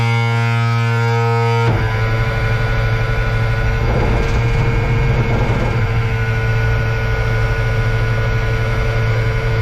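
An old M35A2 military truck diesel engine cranks continuously on ether, a loud steady droning whir with a change in pitch early on, close by and without speech.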